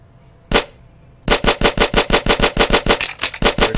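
Bullet shooting sound effect in a Scratch shooter game: a single sharp shot, a short pause, then a steady rapid burst of about seventeen evenly spaced, loud, close shots with no voices.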